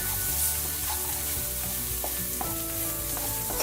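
Jumbo shrimp sizzle steadily in a hot pan over lowered heat, a constant frying hiss with occasional stirring scrapes and clinks.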